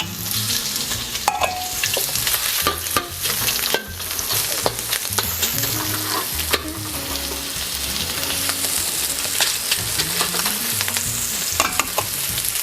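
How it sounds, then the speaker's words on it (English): Prawns frying in hot oil in a wok for Singapore noodles, a steady loud sizzle with scraping stirs and clatters throughout, no talking. "add a little bit more oil, and we're going to add in our prawns"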